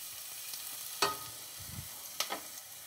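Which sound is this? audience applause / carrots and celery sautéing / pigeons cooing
carrots and celery sautéing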